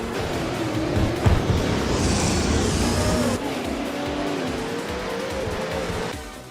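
Koenigsegg race cars in a racing video game, engines roaring loudly at full throttle with a brief tire squeal and shifting engine pitch as the cars race past, no voices.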